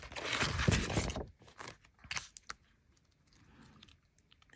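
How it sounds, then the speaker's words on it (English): A craft blade slices through copper tape on a card, giving a close, crisp scraping and crunching burst, then a few quieter clicks and light scratches. "I think I'm going to use my blade because I don't want to bend the metal tape."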